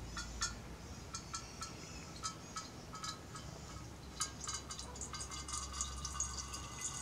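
Liquid pours and trickles quietly into a vessel while hard apple cider is being made, a faint wet stream with small splashy drips over a low background hum.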